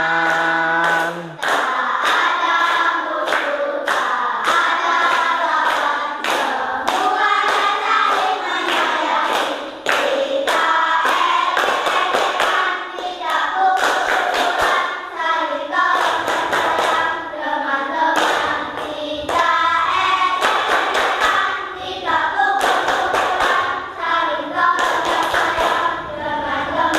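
An audience of schoolchildren at an Islamic religious education lesson on reaching puberty claps hands in steady, loud rhythmic bursts that run continuously, with a brief voice near the start.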